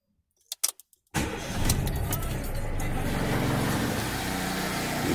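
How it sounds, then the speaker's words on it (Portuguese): A few faint clicks from the ignition come first. Then a car engine, being checked for radiator coolant condition, cranks and catches about a second in and settles into a steady, fairly close idle. "Liguei o carro aqui."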